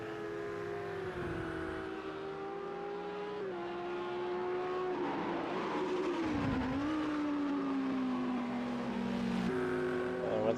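A Lamborghini GT3 race car at Bathurst Mount Panorama in Project Cars 2 holds a loud, close engine drone that climbs and dips in pitch through gear changes, with a brief tire squeal midway.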